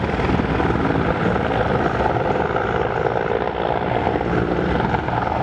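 A Mil Mi-24 Hind military helicopter flies close by at an air show, its rotor beating loud and steady with a dense engine roar, no voices.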